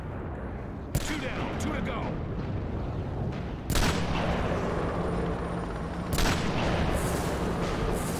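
Gunfire in the video game Rogue Trooper during sniping, with three sudden loud shot onsets, each followed by a dense rumbling wash of battle noise, and a voice speaking briefly over it.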